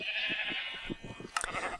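Sheep in Minecraft bleat in a short wavering series of calls, close and fairly loud, with a brief sharper click of game sound near the end.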